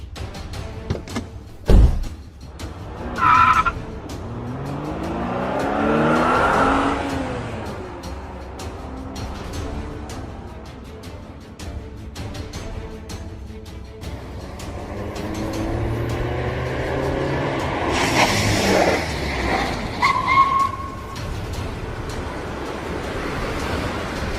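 A truck pulls away during an emergency evacuation, its engine rising and falling in two long surges with some rumble and wind-like noise.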